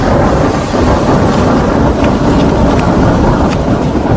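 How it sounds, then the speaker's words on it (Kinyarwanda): A thunderstorm rumbles in a dense, steady roar of thunder mixed with heavy rain and wind, loud and continuous throughout with no distinct separate claps. "bwa bwoko bubiri bw'urubura bufite ibimenyetso bitandukanye burasekurana bigatanga amashanyarazi y'ingufu nyinshi cyane, bakabyita inkuba."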